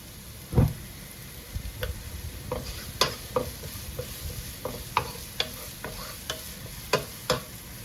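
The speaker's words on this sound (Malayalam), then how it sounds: "ഈ സബോള ഇതിൽ കിടന്ന് ഒന്ന് ഇളക്കിയെടുക്കുക" Sliced onions sauté in oil in a pan under a continuous low sizzle, while a spoon stirs and scrapes against the pan in irregular knocks and clatters spaced about a second apart.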